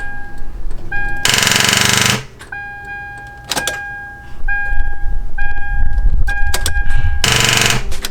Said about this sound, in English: It sounded like the starter was bad or something.